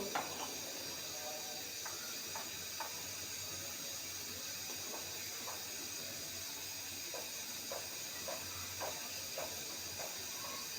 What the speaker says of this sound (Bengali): এখন আমি মাছের টুকরাগুলো দিয়ে দিব দিয়ে সবজির সাথে মিশিয়ে নিব